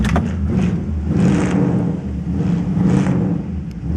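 The engine of a 1955 Ford Crown Victoria rumbles loud and close with a deep, throaty idle, swelling in a few short revs that rise and fall about every second and a half.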